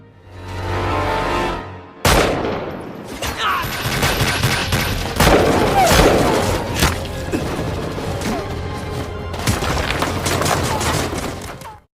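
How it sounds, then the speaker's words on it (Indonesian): Gunfire crackles through an exchange in the film The Red Rain, with loud, sharp shots and bursts hitting over a dense, chaotic bed of noise after a brief lull. Impacts and crashes are scattered throughout. "aksi baku tembak pun terjadi di antara Takeru dengan orang-orang Kamizono Group"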